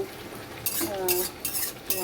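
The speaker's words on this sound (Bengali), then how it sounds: "আমি এই কলমি শাকটা ভাজছি" A metal spatula clinks and scrapes against a pan in quick strokes over a soft, steady sizzle of water spinach frying close by.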